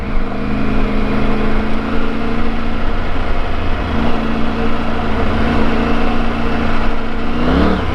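A 2021 Triumph Tiger 900 GT Low motorcycle engine revs steadily and loud up close as its rear wheel spins against aggressive traction control, ending in a brief rising rev.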